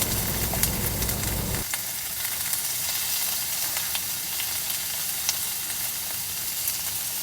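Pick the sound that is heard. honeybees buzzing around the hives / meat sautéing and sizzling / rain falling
meat sautéing and sizzling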